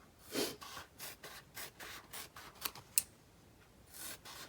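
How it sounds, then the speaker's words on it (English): Strips of foam being cut with scissors for a steampunk keepsake box: a series of soft, rhythmic snipping and rubbing strokes, close and quiet, with a couple of sharper clicks midway. "I am going to cut out pieces of foam."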